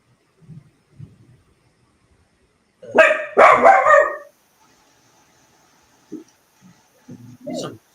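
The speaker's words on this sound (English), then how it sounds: "So dog doesn't sound happy." A dog barks in a short burst of several loud, close yaps, with soft murmurs and quiet whimper-like sounds before and after in an otherwise quiet room.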